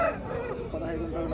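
A rooster crows at a busy Saturday poultry market in Mydukur, Kadapa, Andhra Pradesh, one loud strained crow over a dense din of people talking and other birds.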